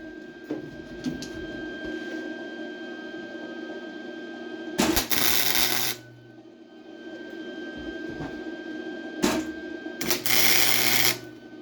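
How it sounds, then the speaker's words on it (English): Two loud bursts of welding crackle on the base of a handmade metal rose, each lasting about a second, separated by quieter workshop hum. "gonna weld the base, the bottom right down there"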